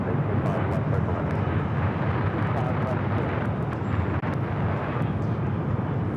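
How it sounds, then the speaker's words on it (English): A Delta Boeing 757 jet on final approach about to touch down on the north runway at LAX, its steady engine roar loud and continuous with broadband rumble, while voices talk over it. "Delta 757 about to touch down on the north."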